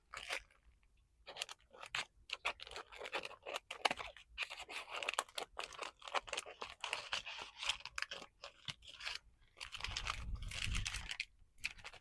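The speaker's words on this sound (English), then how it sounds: "I'm just going to cut where the tape is." Scissors snip through tape on a plastic wrapper, with close, quiet crinkling and crunching cuts in an irregular series, some louder bursts of rustling near the end.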